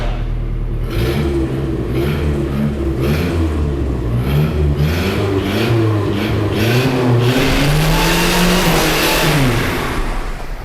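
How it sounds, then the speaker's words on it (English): A Nissan D21 Hardbody pickup truck roars through a reverse burnout in a shop beside a lift, the engine revving loud and close with rising and falling pitch sweeps and tire hiss building toward the end. "I don't know if y'all have ever seen a reverse burnout, but I'm gonna try one right now"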